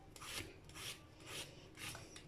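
Ridge gourd skin being peeled with a scraping stroke, giving four rough rasping scrapes at an even steady rhythm, close and fairly quiet, with no talk.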